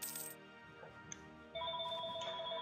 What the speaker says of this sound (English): Oops, phone call, gotta take this.